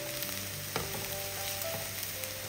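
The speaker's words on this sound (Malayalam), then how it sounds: "വെളുത്തുള്ളിയുടെ പച്ചമണം മാറി കിട്ടുന്നതുവരെ ഒന്ന് ഇളക്കി കൊടുക്കുക." Garlic and sliced onions fry in a pan while being stirred, giving a soft, steady sizzle broken by a few faint scraping clicks from the spoon.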